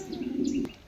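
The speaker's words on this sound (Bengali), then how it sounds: "এখানে আমার সামনে অনেক কালার কবুতর আছে" Pigeons in a loft of fancy breeds such as white show kings coo in a low, soft, steady murmur for under a second, with faint higher chirps above it and no talk.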